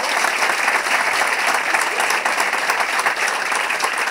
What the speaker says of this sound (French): Merci, on peut l'applaudir, s'il vous plaît.